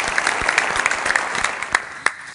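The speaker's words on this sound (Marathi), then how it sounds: "जोरदार टाळ्या." Audience applause at a Satyamev Jayate Water Cup competition event, a steady wash of many hands clapping with a few sharper individual claps standing out, moderately loud and continuous.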